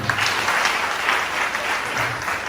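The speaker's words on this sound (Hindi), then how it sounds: "जोर से ताली हो जाए" Loud audience applause breaking out on cue at a Hindi motivational talk, a dense patter of many hands clapping steadily for a couple of seconds.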